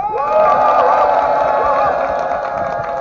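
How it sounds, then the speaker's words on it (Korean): An outdoor community crowd at a local forest book-rest space event cheers and applauds, loud sustained whoops and shouting voices with clapping mixed in, close and energetic throughout. "저희 다음 공연에도 이렇게 큰 박수와 큰 함성 부탁드립니다"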